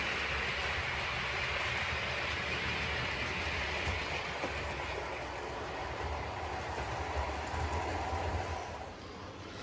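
Continuous rumble and clatter of an OO gauge model train rolling along the track of a layout, steady and close, easing slightly toward the end.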